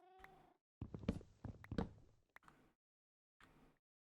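A cat in the Minecraft video game meows several times in short separate calls with brief gaps, close and fairly clear against a quiet background.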